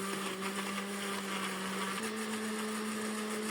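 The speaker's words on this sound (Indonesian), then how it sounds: "Selanjutnya kita akan blender sampai halus." A blender grinds dried shrimp and garlic with a little water, a loud steady motor whine throughout that drops slightly in pitch partway as the load changes, with no talking.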